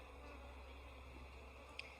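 Honeybees inside a hive in September give off a faint, steady, low buzz with no voices.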